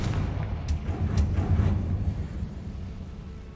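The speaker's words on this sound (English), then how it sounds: "setting the spider webs on fire" A Confringo fire spell in Hogwarts Legacy sets spider webs ablaze, giving a loud, rumbling whoosh of flame with a couple of sharp crackling bursts near the start, fading into a sustained low roar.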